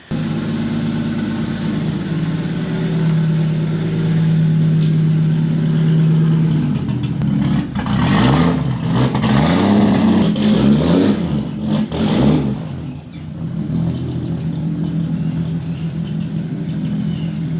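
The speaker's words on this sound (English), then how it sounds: "It's time to get this Supra out of the garage, get the silver one back in here, do the switcheroo." A Toyota Supra pulled out of a garage, its engine idling in a steady rumble and then revving through several swells as it moves before settling back to idle. Loud and close, with no talk.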